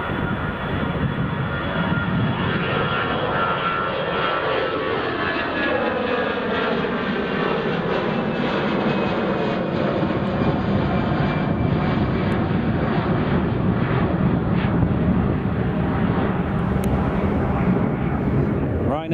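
Jet engines of an EasyJet airliner at Edinburgh Airport roar loud and steady throughout, with a slowly shifting whine as the aircraft moves, and voices under the engine noise.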